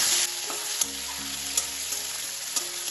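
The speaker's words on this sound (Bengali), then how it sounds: "তেলটা গরম হয়ে গেছে, এবার আমি এর মধ্যে দিয়ে দেবো চিংড়ি মাছটা" Shrimp coated in salt and turmeric frying in hot mustard oil, a loud continuous close sizzle with a few light utensil taps.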